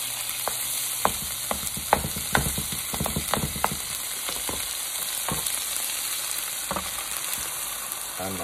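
Butter sizzling in a pan while cooking breakfast fried rice with eggs, a steady hiss with repeated sharp taps and scrapes of a utensil, close and fairly loud, without talk.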